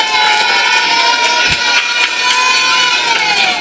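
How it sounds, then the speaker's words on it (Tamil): A crowd at a youth association's recognition event in Manamadurai claps and cheers for an honoree, a loud, dense, continuous wash of noise with bright tones running through it. "எல்லாரும் கைதட்டுங்க அவங்களுக்கு."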